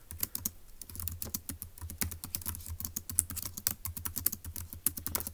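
Rapid, uneven keystrokes on a computer keyboard, close and fairly quiet, coming in quick bursts with short pauses between them.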